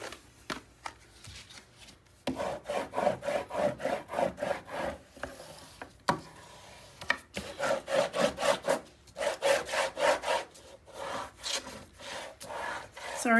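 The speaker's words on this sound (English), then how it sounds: "I want to press firm and make sure that that tape is really in there where it belongs." Tape being pressed and rubbed firmly down on a handmade album, a scratchy rasping friction in rhythmic back-and-forth strokes, close and fairly quiet, in two bursts separated by a short pause.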